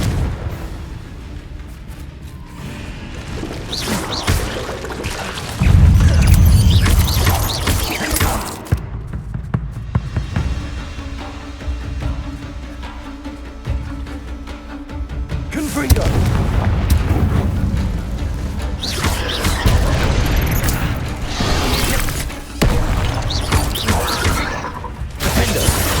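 Fiery Confringo spell blasts explode repeatedly in the Hogwarts Legacy video game, heavy booming bursts mixed with dense combat noise and rumble, with a voice shouting over the fight at times.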